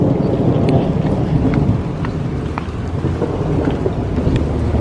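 A severe-warned, windy thunderstorm on June 25, 2023 delivers loud, steady rain and a deep continuous rumble of thunder, with scattered drops striking nearby surfaces.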